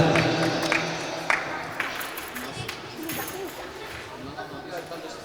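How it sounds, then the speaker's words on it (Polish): A crowd applauds second place at a primary-school football tournament for grades one to three, the clapping fading gradually while children chatter and shout over it in a busy hall. "Wielkie brawa, drugie miejsce, gratulacje."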